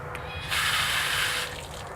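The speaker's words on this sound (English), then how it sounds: "there's water trickling out right here" Water trickles and hisses from the split casing of a frozen valve on a 2017 Dultmeier brine maker, a steady close spray swelling for about a second before easing back to a low trickle.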